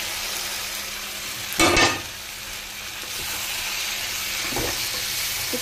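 Cauliflower pieces hit a hot pan and fry with a loud, continuous hiss, one sharp burst as they go in, then a steady sizzle with a faint stirring knock later.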